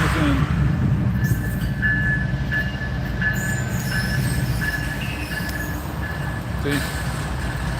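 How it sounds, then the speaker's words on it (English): A model train set running steadily on its track, a continuous rumbling clatter of wheels with a thin squealing tone throughout and a few faint clicks on top, no one speaking. "Playing with the trains."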